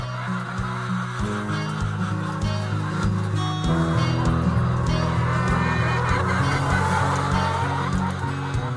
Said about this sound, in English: We rear layer chickens for the brown eggs